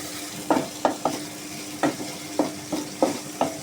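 Food stir-fried in a pan as it is cooked down with salt and spices, a series of about eight distinct scraping stirs over a soft background sizzle, close and without talk.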